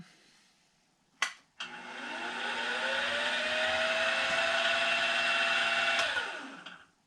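A Grizzly G0759 benchtop milling machine gives a click, then its spindle whirs up to a steady high whine. After a second click the whine winds down and fades away as the spindle coasts to a stop after the e-stop.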